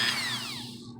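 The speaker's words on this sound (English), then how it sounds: "I'm going to take my Dremel with a sanding wheel on it here." A Dremel rotary tool fitted with a sanding wheel sands the seams of a DIY Red Hood cosplay mask, giving a close, steady high whine whose pitch slowly falls as it bears down, with no talk over it.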